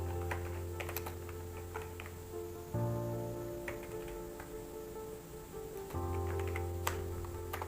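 Python code being typed on a computer keyboard: scattered quick bursts of light key clicks over a steady low room hum, with no talking.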